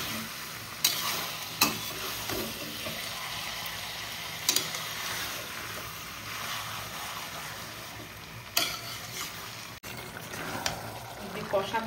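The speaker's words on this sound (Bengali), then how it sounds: "তাহলে এইভাবে নেড়ে চেড়ে কষাবো।" Mutton curry being stirred and sautéed in a pan at home, a steady close sizzle broken by several sharp scrapes and clatters of the spoon against the pan, with faint background noise throughout.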